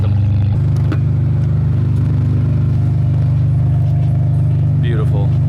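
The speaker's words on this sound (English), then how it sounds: "I've never heard a fully straight piped 599 before." Ferrari 599 with a fully straight-piped exhaust idling loud and close, a deep steady rumble with a short rev blip near the start, while people talk over it.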